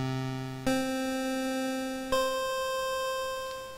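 Square wave from the NES 2A03 sound chip at 25% duty cycle plays three sustained notes one after another, giving a thin, nasal chiptune buzz at modest volume with no voices.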